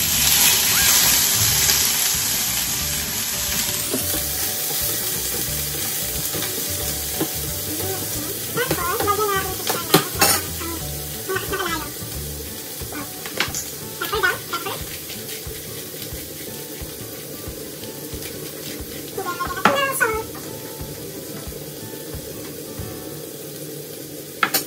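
Garlic and shrimp sizzle in a hot pan with a broad, steady crackle. Several brief clinks and stirring scrapes break through it, and someone speaks quietly now and then.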